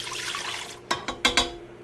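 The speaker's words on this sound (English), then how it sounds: "you can go ahead and pour it into your mixer" Bloomed yeast liquid is poured into a stand mixer bowl, heard as a soft watery pour followed by a few distinct splashing glugs near the mic.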